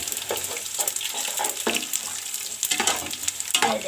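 Onions and spices sizzle and crackle in an oiled pot for Pakistani beef pulao, with bursts of frying and repeated scraping stir strokes close by and no speech.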